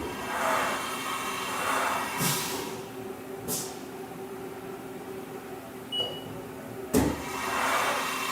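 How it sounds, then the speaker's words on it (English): A 2019 Haas VF5XT CNC machine runs through a tool change, with a steady mechanical hum, whirring motor swells and a few sharp clunks and clicks spaced out as the carousel and spindle move. "Right now he is simulating a tool change."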